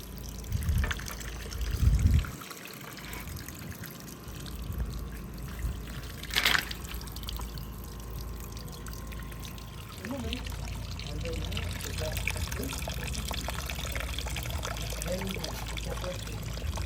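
A POPOSOAP solar water fountain set in a rustic backyard bed of 3/8-inch gravel trickles and pours steadily, the soft running water continuing under intermittent nearby talk and a few louder handling bumps.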